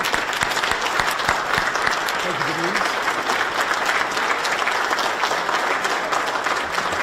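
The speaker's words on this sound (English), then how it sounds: "So let's all give her a round of applause." An audience of district commanders at a training session applauds Denise Rohan, the leading candidate, with dense, sustained clapping from many hands, while a voice briefly speaks over it.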